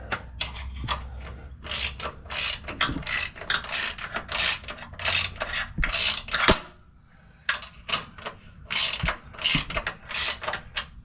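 A ratchet tightens the bolts of an Icon lift kit on a Ford Bronco, with close, rhythmic bursts of rapid clicking broken by short pauses.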